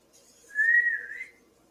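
A single clear whistled note, held for about a second with a slight rise and fall, close and alone in a quiet room.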